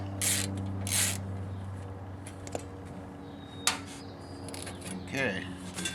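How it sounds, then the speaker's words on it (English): A ratchet wrench works on a Champion generator during repair, with a few short bursts of clicking ratcheting spaced out over a quiet background, close by, with faint talk and a couple of small knocks. "This ratchet's kind of junky."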